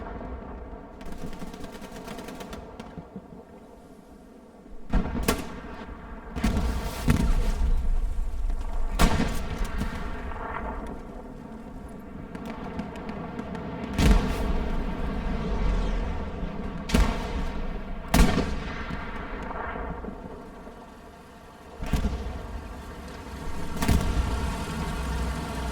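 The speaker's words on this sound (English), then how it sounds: "You're seeing those gunfights happening now." Gunfights in an HCA 2025 Premier League video game match between 3AC and RONIN on the Utah: Chapel map, with a steady low rumble of engines and battle ambience broken by sharp, distant gunshots and heavier booms every few seconds.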